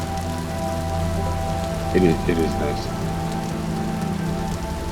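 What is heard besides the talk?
rain falling in survival video game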